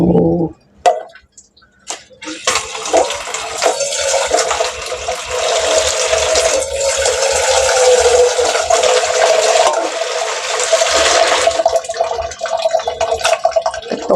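Water boils hard in a pot while a Thai curry is being made, a loud, continuous bubbling rush that fills the whole stretch after a few clattery knocks at the start.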